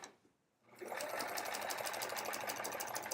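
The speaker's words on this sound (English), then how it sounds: "Break out the sewing machine and" A sewing machine used for quilting an hourglass block starts after a brief quiet pause and then runs steadily and rapidly with an even mechanical chatter, close and continuous.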